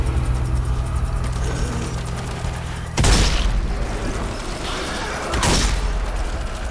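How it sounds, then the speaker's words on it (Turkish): Sniper rifle headshots strike zombies in the video game Zombie Army 4 on hard mode, two sharp loud cracks with booming tails spaced a few seconds apart over a steady low rumble of game ambience. "Bak kafasına vuruyorum sniper'la."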